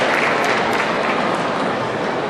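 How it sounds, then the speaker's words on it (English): Audience applause welcoming a feng shui master on stage in Canada, a steady dense wash of clapping from a crowd, sustained at a moderate level. "let's give a big round of applause"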